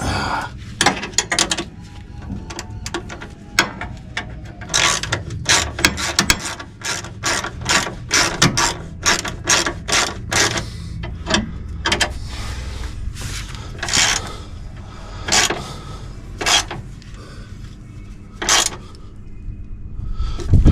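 A spanner ratchets on a Ford Falcon XF during power steering work, giving close, loud bursts of rapid clicking with short pauses between strokes and metallic knocks in between.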